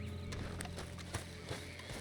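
Donkey hooves clop in the Red Dead Redemption 2 video game, a run of irregular, fairly soft hoof strikes over a steady ambient game soundscape.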